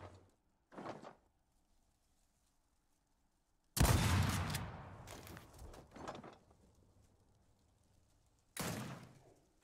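Video game shotgun shots, several loud blasts with a booming low thump and ringing tail, fired in an irregular sequence with pauses of quiet between them, no voices over the shots.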